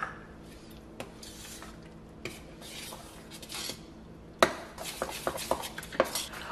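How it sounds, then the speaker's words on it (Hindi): Flour is mixed into malpua batter in a bowl, with a spoon scraping and clinking against the sides in scattered taps at first, then faster, busier knocks toward the end, close and fairly quiet. "और अब मैं इसमें ऐड कर रही हूँ सेकंड बोल आटा, और बस इसे भी अच्छे से मिक्स करना है हमें"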